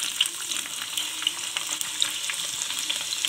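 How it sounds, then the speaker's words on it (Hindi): Banana slices fry in a pan of oil for banana chips, giving a steady, dense sizzle dotted with small pops and crackles, close and even throughout with no voices. "अभी ये थोड़ा सा और थोड़ी देर और इसको फ्राई करेंगे जिससे बनाना का जो भी कच्चापन होगा ना वो सब निकल जाएगा"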